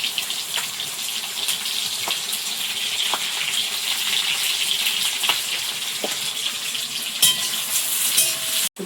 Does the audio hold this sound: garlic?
yes